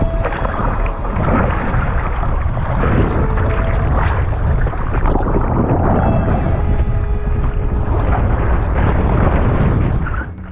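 Strong offshore wind at sea during a wing foiling session roars into the microphone as a loud, continuous buffeting rush with gusty surges, filling the whole stretch without any talk.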